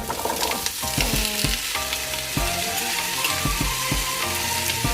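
Potatoes sauté with onions in a hot pan for a cabbage and potato vegetable dish, a loud steady sizzle broken by repeated scraping and stirring strokes of a utensil against the pan.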